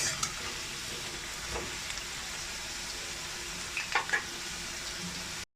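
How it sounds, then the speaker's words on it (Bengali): Potatoes frying in a pan until reddish make a steady close sizzle, broken by a few sharp spatula clinks and stirring scrapes near the end, with no talk over them. "আলুগুলো লাল লাল করে ভেজে নেব।"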